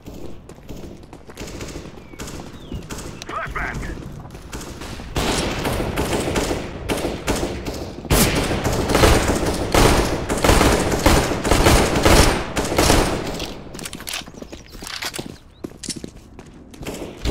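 Gunfire from Counter-Strike: Global Offensive, a loud stretch of rapid repeated shots and bursts under a dense clatter of game sound, with footsteps and thuds in the mix and no speech.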